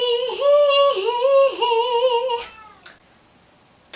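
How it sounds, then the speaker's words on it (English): A cat meows loudly and close three or four times in a drawn-out, wavering cry, then quiet with a couple of faint clicks. "I don't know if you heard my cat meowing."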